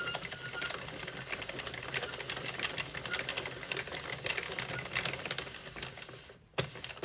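A circular knitting machine being hand-cranked through a round, giving a steady, fairly quiet stream of rapid mechanical clicks and clatter with a brief pause near the end.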